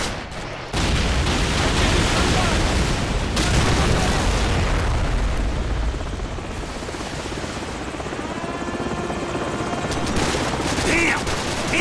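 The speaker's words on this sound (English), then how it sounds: "Damn! Enemy helicopters!" Enemy helicopter rotors roar throughout a Call of Duty 4 battle while bursts of gunfire and explosions crack over the din, loud and continuous, with faint voices in the mix.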